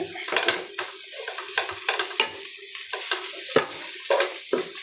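Grated carrot fries in ghee in a pan for carrot halwa, with soft sizzling under repeated scraping and stirring strokes of a utensil against the pan, close and rhythmic.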